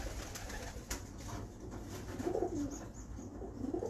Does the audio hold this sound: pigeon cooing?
yes